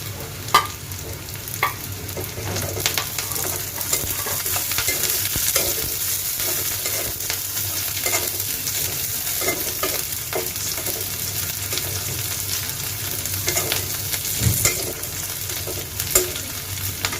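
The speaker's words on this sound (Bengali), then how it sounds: "কাঁচামরিচ এবং পেঁয়াজটা ভাজা হয়ে গেল।" Green chillies and onion frying in a pan, a continuous close sizzle broken by repeated spatula scrapes and clicks as they are stirred, with no voices.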